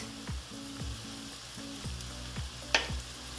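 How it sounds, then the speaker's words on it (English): Diced red onions and celery fry in a pan for vegan Ghanaian jollof rice, a steady close sizzle with a sharp crackle near the end, under a soft humming tonal background. "Fry for 2 minutes."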